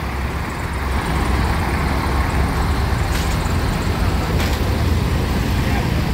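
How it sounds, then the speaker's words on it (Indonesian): Large Handoyo intercity bus pulling into a crowded terminal during the pre-Lebaran holiday exodus, a loud steady engine rumble and road noise filling the scene without letup. "ini bus Handoyo"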